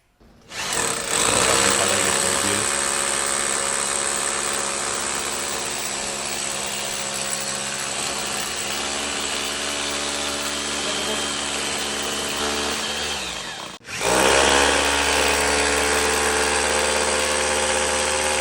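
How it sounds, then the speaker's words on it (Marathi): An electric drill machine bores holes in an extra board while a room-cooling fogger kit is being assembled, its motor whining steadily for about thirteen seconds, stopping briefly, then starting up again loud and close. "बीळ पाडायचे ड्रिल मशीनने"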